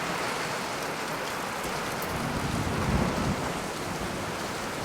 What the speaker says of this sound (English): Sounds like we got us a storm out there.